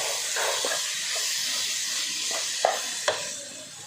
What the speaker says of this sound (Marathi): व सर्व हे मिश्रण छान परतून घ्यायचं आहे.